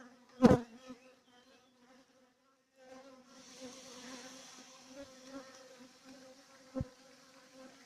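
Honey bees buzz steadily at an apiary, a soft droning hum that swells after a quiet pause, with a sharp knock near the start and another later.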